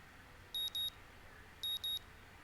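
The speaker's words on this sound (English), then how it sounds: "The sound of an alarm pulls me out of a fitful slumber and into the unpleasant state of wakefulness" An alarm clock in the Katawa Shoujo video game beeps in two short paired bursts, a double beep repeated twice about a second apart, crisp and electronic over a quiet low hum.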